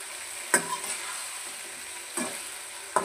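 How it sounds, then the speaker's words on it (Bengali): Tempering (baghar) frying in a pan is stirred, with a faint soft sizzle and three sharp scraping clatters from the spoon, close by and without talk. "এখন নাড়াচাড়া করছে। নাড়াচাড়া দিচ্ছে, বাগার দেওয়া হলো।"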